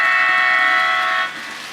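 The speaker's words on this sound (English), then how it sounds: "that locomotive there, is actually pushing that whole train" A sound-equipped model railway locomotive pushing a whole train on a branch line gives a loud, sustained horn-like tone that drops in level near the end.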